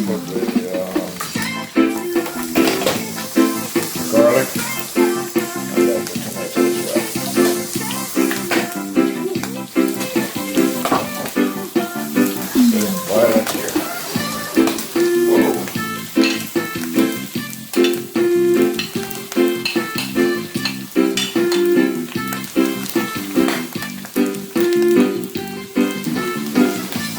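Pork pieces browning for a Jamaican jerk pork stew as garlic and seasoning go in, with a steady loud sizzle and frying crackle under recurring stirring scrapes in the pot, close up, no talking.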